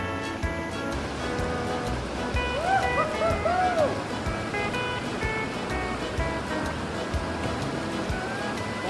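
Whitewater river rapids at Canyon Rapids rush in a steady, loud broadband roar of churning water that fills the whole stretch, with brief wavering tones and a voice rising faintly over the water partway through.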